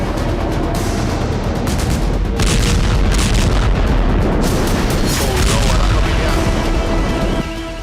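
Repeated heavy booms and rumbling blasts from airstrikes on Israel, loud and dense throughout with little pause, like continuous distant-to-near explosions in news footage.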